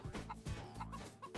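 Chicken clucking from the PlayStation game Mort the Chicken, a run of short repeated clucks and squawks, close and fairly loud, over a steady game soundtrack with no talking.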